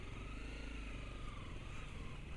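Dirt bike circling the Four Marks MX motocross track, its engine droning steadily with a continuous mid-pitched buzz and slight revving, fairly faint and alone without talk.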